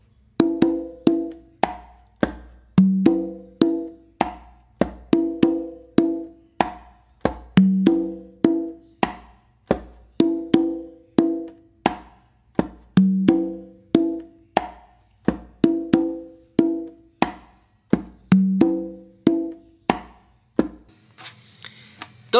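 Funk groove played with ghost-note finger taps, a steady tight rhythm of crisp percussive hits with muted low thumps and quick fills repeating over about twenty seconds, close and alone.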